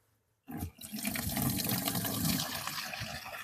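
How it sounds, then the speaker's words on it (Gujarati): Jivamrut, a liquid organic fertilizer, is poured out in a steady gushing stream that starts abruptly and runs loud and continuous to the end, with no voices. "હાલો હું તમને જીવા અમૃત કાઢી અને બતાવું"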